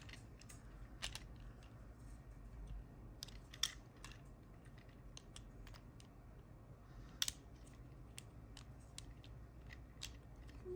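Plastic Transformers Studio Series figure parts being snapped together by hand: faint, scattered small clicks and ticks at an uneven pace, with a couple of sharper snaps standing out, and no voices.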